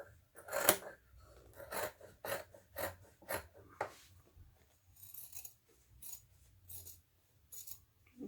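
Scissors trim a fabric seam allowance in a quick series of short, crisp cuts, close up and fairly quiet, with brief pauses between snips.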